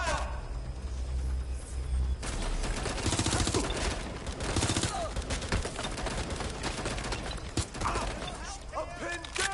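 Gunfire in the video game Watch Dogs: Legion, dense rapid bursts and overlapping shots after a quieter start, loud and close, with game voices shouting in between.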